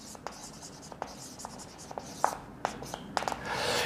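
Chalk writing on a classroom board during a maths lecture, a series of short, quiet taps and scratchy strokes in an irregular rhythm, close by with no speech over it.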